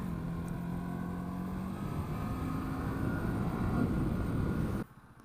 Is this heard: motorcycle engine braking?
yes